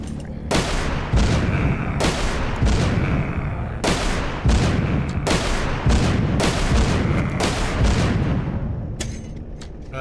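Rockets explode in The Walking Zombie 2, with a loud string of heavy blasts roughly once a second, each a sharp crack followed by a rumbling tail, ending in a fading hiss.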